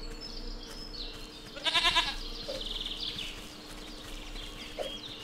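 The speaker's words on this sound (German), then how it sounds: "Wenn ich jetzt näher hingehe, da habe ich jetzt die Ziege." A goat bleats in the video game Force of Nature, a wavering call standing out over steady ambient game sound, with a second shorter cry following later.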